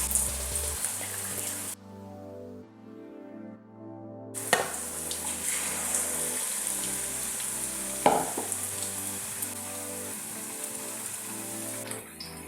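Egg bajji in a rice-flour and maida batter frying in hot oil over a high flame, a loud, steady sizzle and crackle that briefly drops away, then returns with sharp pops and stirring clatter.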